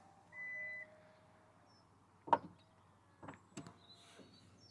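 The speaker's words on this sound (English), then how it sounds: "at a touch of a button, the tailgate's going to close." The electric tailgate of a 2025 MG HS Trophy SUV closes with a short motor whir, followed by a few quiet clicks and a soft latching thud in a calm, quiet setting.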